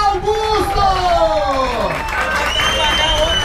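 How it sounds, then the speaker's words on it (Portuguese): A crowd claps and cheers for Igor Augusto, a heavyweight 95 kg category competitor at an XCO race event, with steady dense applause and voices over the top throughout. "Uma salva de palmas pra Igor Augusto!"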